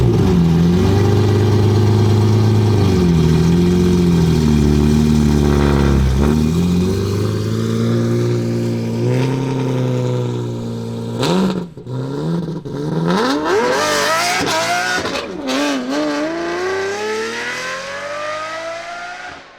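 A straight-piped 710 hp Lamborghini engine idles with a deep, loud drone, then revs repeatedly in sharp rising bursts, close and dominating with no talk over it.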